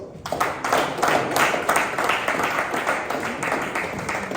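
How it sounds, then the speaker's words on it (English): An audience at a legal profession mentorship event applauds, a dense, fairly loud wash of clapping that starts abruptly and holds steady, with faint voices mixed in. "Please, a round of applause."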